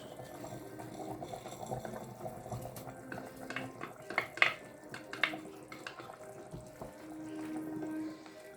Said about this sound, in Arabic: قبل ما نحطوها نغسلوها بالباهي بالماء سخون